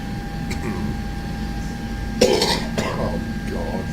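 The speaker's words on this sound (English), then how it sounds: "I've got COPD, which is accountable for that cough" A single harsh, wet cough from a person with COPD bursts out, followed by a second smaller cough, against a quiet background hum.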